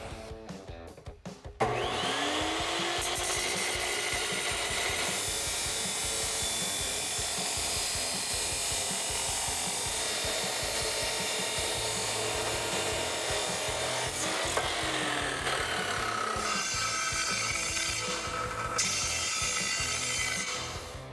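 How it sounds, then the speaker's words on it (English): A chop saw cuts through a steel exhaust intermediate pipe for a 2011-2014 Ford F150 3.5L EcoBoost. A loud, continuous whining grind runs for about twenty seconds after a short spin-up, with slight shifts in pitch as the blade bites. "I have it mounted up here in my chop saw, and I'm gonna cut it right here on the mark."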